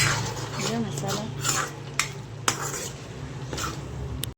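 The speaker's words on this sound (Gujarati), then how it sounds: "જો ગઈશ મસાલા મિક્સ કરી દીધા" A spoon stirs spices into chole in a pan, giving steady scraping and a few sharp clinks against the metal, with a low hum underneath throughout.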